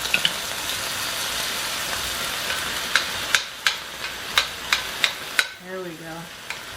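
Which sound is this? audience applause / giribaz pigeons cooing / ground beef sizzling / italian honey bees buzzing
ground beef sizzling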